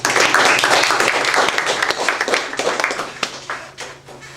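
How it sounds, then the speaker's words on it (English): Audience applause before a morning talk, dense clapping at full strength that gradually thins and fades over a few seconds, with a scattering of individual claps near the end. "applause, please"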